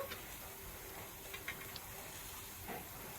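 Green chillies fry in the oil left after frying onions, garlic and ginger for a local chicken biryani: a quiet, steady sizzle with scattered faint crackles.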